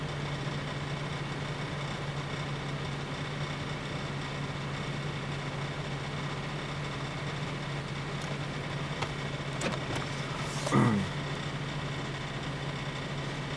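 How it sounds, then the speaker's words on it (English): Radiator cooling fans on a 2002 Pontiac Grand Prix GT run as a steady, even whoosh with a constant low hum, close and unchanging, with a brief faint clunk near the end. "That's the fans on."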